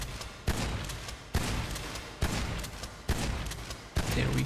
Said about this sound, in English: It's also a much slower shotgun.